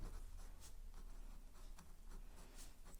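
Pen scratching on paper as an equation line is written out by hand during a class 10 maths solution, quiet, quick strokes with brief louder scrapes spread across the whole stretch, no voices.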